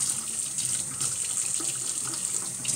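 Hot water runs from a faucet into a newly installed Trinity stainless steel utility sink, a steady close splashing stream heard alone for a few seconds.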